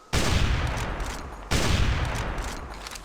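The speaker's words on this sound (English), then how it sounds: "I'm surprised it only takes 2 sniper shots to put one down" Two loud sniper rifle shots fired in the dinosaur-hunting game Carnivores Triassic, each a sharp close crack followed by a long echoing decay, spaced about a second and a half apart with no talking.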